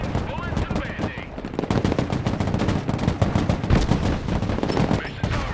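Sustained gunship gunfire in the Broken Arrow game, rapid machine-gun bursts rattling nearly nonstop, close and loud over a churning battle backdrop.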